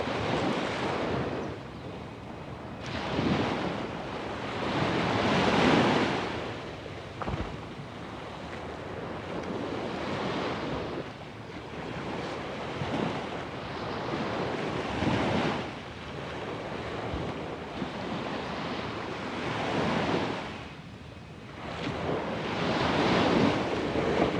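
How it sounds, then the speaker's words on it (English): Ocean waves on a Thailand beach surge and wash in slow, rolling swells, each lasting a few seconds, with steady wind buffeting the microphone and no voices. "Set the microphone there where you can hear the ocean."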